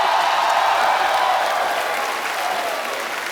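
A studio audience on The Kapil Sharma Show, an Indian comedy show, gives loud, dense applause that stays full and even for a few seconds before easing slightly.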